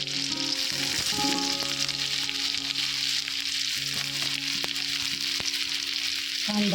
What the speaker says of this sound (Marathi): त्यानंतर टाकली हिरवी मिरची ती ही चांगली तेलात परतून घ्यायची